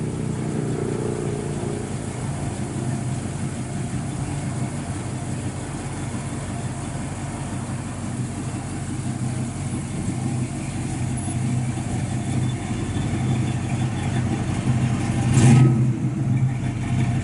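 A 1967 Pontiac Firebird with a matching-numbers 400 V8 runs through dual exhaust, holding a steady, throaty idle close by and then blipping into a short, louder rev near the end, with no talking.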